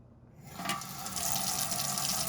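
Warm water from a tap runs into a bathroom sink, starting after a brief quiet moment and building into a steady, full splashing stream that continues to the end.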